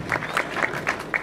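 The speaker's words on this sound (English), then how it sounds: "Can clap for Kuria." Scattered hand claps from a small group at a university graduation ceremony ring out at a steady pace, fairly close, with a faint voice underneath.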